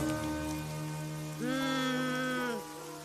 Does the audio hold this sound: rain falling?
yes